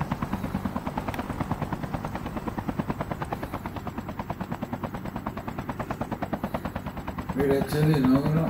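A helicopter in a sniper shooter video game thumps with a steady, rapid rotor beat throughout, close and fairly loud, with a burst of louder noise near the end.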